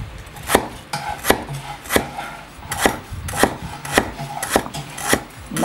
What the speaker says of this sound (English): so you cut the lemongrass.